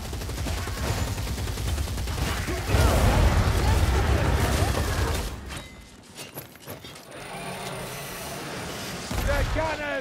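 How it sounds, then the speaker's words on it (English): A Gatling gun fires in the Warhammer Vermintide video game: a dense, loud, continuous burst of rapid gunfire for about five seconds, then quieter mechanical clatter and scattered game effects, with a brief loud swell near the end. "Gatling gun!"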